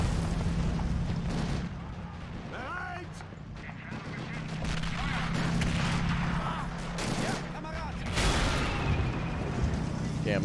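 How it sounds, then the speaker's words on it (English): Sherman tank gunfire in the Men of War WWII strategy game, with repeated booming shots and rumbling battle noise over a dense, steady din of combat lasting throughout. "Americans might just be firing with the Sherman"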